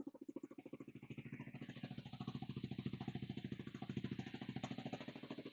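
A Kawasaki KLR 250 dirt bike engine idles close by with a rapid, steady thumping putter, continuous and rough for several seconds.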